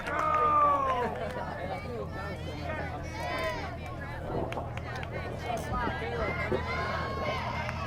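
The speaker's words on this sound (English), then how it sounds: "Big crowd here at Doniphan" Crowd murmur and scattered voices at a district softball championship game in Doniphan, with fans down from Willow Springs; a steady, moderately loud hubbub of chatter with occasional cheers, people talking throughout.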